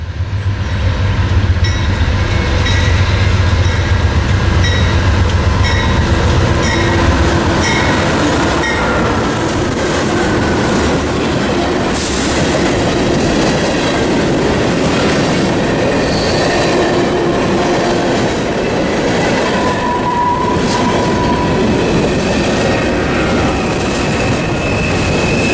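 Freight train Q452, led by a pair of CW40-8 locomotives, rolls past a station platform at Santos in Florida near sunset, with a loud, continuous rumble and clatter of wheels and faint squeals.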